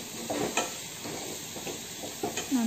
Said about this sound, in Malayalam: നന്നായിട്ട് നമ്മുടെ ആ മസാലയുടെയൊക്കെ പച്ചമണം മാറുന്നതിന് വരെ ഒന്ന് ഇളക്കി കൊടുക്കാം